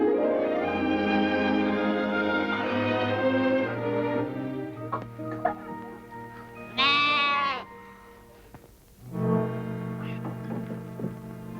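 Lambs kept behind the stove in a rural farmhouse kitchen give one loud, close, wavering bleat midway, standing out against a quieter tonal background.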